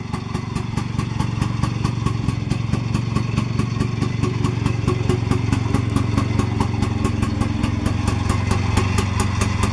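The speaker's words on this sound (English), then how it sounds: "Sounds quite sweet as well, I feel, for a little two-stroke." The small two-stroke engine of an InvaCar 12e invalid carriage idles nearby, a steady, rapid, buzzy putter that holds an even rhythm throughout without any talking.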